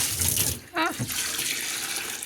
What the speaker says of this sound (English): So I think these are going to be our last 2 dumps of water.